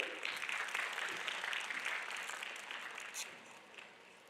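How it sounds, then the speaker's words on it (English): A crowd at a university annual event claps steadily for a few seconds, the applause dense at first and then thinning out toward the end. "Can we have a round of applause, please?"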